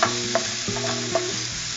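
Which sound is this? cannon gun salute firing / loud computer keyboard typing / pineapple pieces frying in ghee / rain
pineapple pieces frying in ghee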